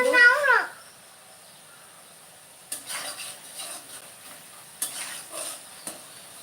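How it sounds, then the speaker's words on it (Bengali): A brief voice opens before spices for a meat curry are stirred and fried in a pan, heard as three separate bursts of scraping and sizzling between quiet pauses. "এখন মশলাটাকে কষিয়ে নিতে হবে সুন্দর করে"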